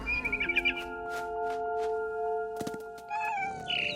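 A cat meows several times in quick succession in What Remains of Edith Finch, near and clear over soft game music and ambience, followed by a few thuds and brighter tones.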